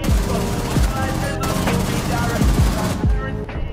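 Rapid automatic gunfire from the shooter Rainbow Six Siege, played on a controller, comes in dense, loud, sustained bursts with a brief break near the end.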